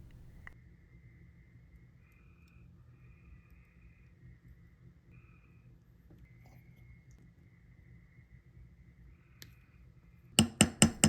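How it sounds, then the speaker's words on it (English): Frogs sing at night in late spring in South Carolina, giving faint, distant, intermittent trills over a low ambient hum. A few sharp metallic taps ring out at the very end. "if you listen closely, you can hear the frogs singing."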